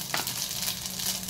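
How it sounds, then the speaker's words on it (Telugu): Tempering seeds and turmeric sizzle in a little hot oil in a pan, a soft, steady frying hiss heard close and alone. "అందులో ఆయిల్ వేడయ్యాక మన తాలింపు గింజలు"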